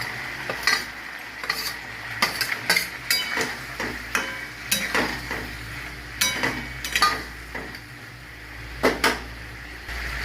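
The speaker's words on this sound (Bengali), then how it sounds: "এবার আমি এর মধ্যে এই বেগুনগুলো দিয়ে দেবো।" Eggplants go into a simmering potato curry in a pan, giving soft sizzling and a series of clinking, scraping spoon-and-pan knocks in irregular bursts, close and moderately loud.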